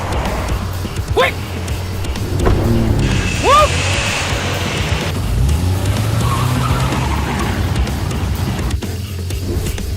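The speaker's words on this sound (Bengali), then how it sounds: "যা গাড়ি স্টার্ট দে" A car starts and speeds off with engine roar and squealing, skidding tires, loud and close, as voices shout over the scene.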